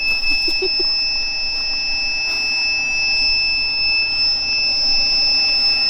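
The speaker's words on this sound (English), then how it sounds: "Is it gonna beep like that all day?" A newly switched-on Renogy electrical system in an old ambulance conversion gives off a steady high-pitched electronic tone that holds without a break, with faint background noise beneath it.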